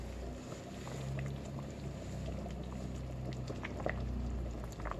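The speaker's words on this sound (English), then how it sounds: "I'm just going to let it simmer maybe for another like 20 minutes until most of the liquid, dries up or cooks up" Fante Fante fish stew simmering in a pot, giving a steady low bubbling and hissing wash with faint scattered pops, continuous and close, with no talking.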